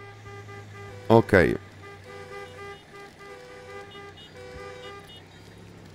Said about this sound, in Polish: Proszę przestać trąbić